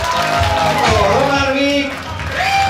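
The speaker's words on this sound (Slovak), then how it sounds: "ešte jeden veľký potlesk" Applause and cheering from an audience at a team draft event, a loud, dense burst of clapping and whoops that fades slightly near the end, with a voice over it.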